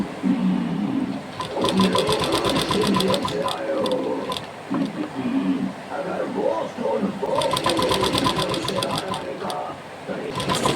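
Sewing machine stitching in a home setting, with bursts of fast, close, rattling needle runs between quieter stretches where a voice talks.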